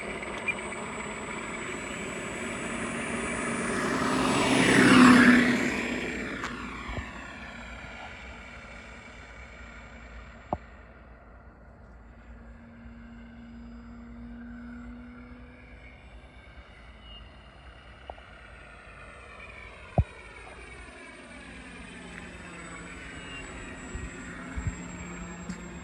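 A Carbon Z T-28 RC model plane's engine buzzes in a loud pass a few seconds in, then fades to a thin, distant drone with faint clicks.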